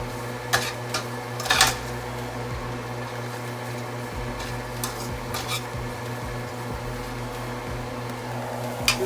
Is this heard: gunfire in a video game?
no